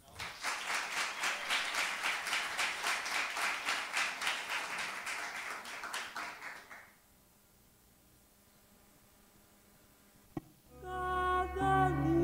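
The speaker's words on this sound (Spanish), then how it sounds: "Un aplauso." An audience claps for poets at a poetry event, a steady close round of rhythmic applause lasting several seconds before fading to near silence, followed by a single knock and then music.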